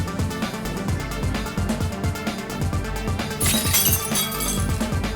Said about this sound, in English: Aw, the sound of glass breaking.